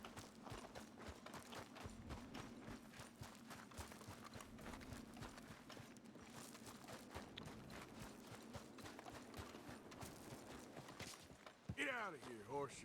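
Horse hooves clip-clopping in Red Dead Redemption 2, a steady rhythmic walking beat of hoofbeats on hard ground that continues throughout, with a voice speaking over it and a brief shrill sound at the very end.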